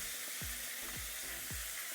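Tomato frying with salt in a pan under a constant soft sizzle, with three evenly spaced low thuds of stirring, quiet and close.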